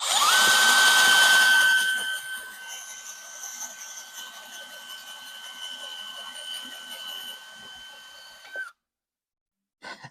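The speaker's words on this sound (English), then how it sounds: "The drill bit got stuck." A power drill whines loudly at first while drilling a pilot hole, then keeps running at a steady high pitch under faint background noise before stopping abruptly as the bit gets stuck.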